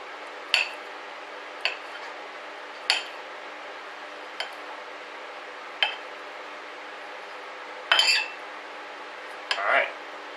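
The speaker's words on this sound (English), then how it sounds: "attempt to slice up our eggs" A knife slices cooked eggs for sausage, egg and tomato pasta, making about eight sharp clicks and clinks against a hard surface, roughly a second apart and close by, over a quiet room.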